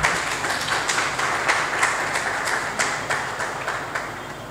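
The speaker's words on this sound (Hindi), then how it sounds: "आपकी तालियां बता रही हैं कि आप लोगों को कलाम बहुत अच्छा लगा है।" Congregation at a church sermon applauding, a steady dense patter of many hands with slight swells, moderately loud and continuous throughout with no talk over it.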